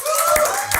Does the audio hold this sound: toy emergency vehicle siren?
no